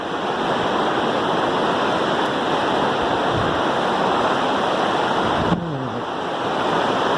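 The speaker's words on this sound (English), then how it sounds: "Unbelievable waterfall right now." A big waterfall on a river in Oregon roars as a loud, dense, steady rush of falling water that fills the whole scene, with a brief bump of wind or handling noise near the end.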